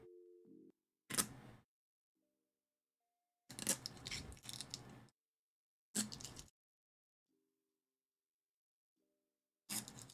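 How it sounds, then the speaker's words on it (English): Protective film peeled off the small buttons of an 8BitDo arcade stick right at the microphone, four brief crackling rips separated by silence, close and crisp. "Let me see if I can get a nice peel in the microphone."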